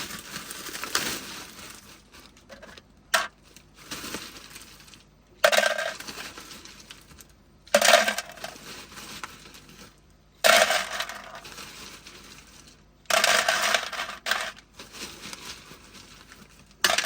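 Five pounds of ice dumped into a cooler inside a van while car camping, heard as several loud clattering bursts separated by pauses.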